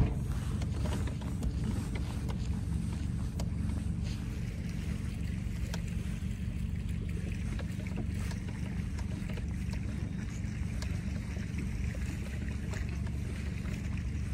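Fishing boat outboard motor on a lake, put in gear and pulling away from the bank; a steady low engine drone runs throughout the clip, with faint wind noise over it.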